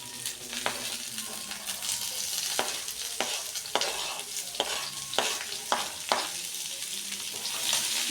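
Onions frying in a pan, a constant close sizzle with a series of distinct scraping strokes as a spoon stirs them, no voices.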